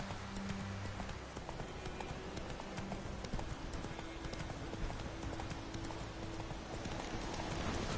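A horse trotting in The Witcher 3, with steady rhythmic clip-clop hoofbeats running throughout over a dense, constant game soundscape with low tonal music, moderately loud and close.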